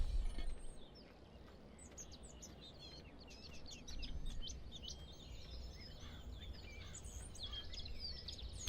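Birds sing and chirp in a forest in the video game Farming Simulator 17, many quick overlapping calls scattered steadily over a constant low rumble of background ambience, with no talking.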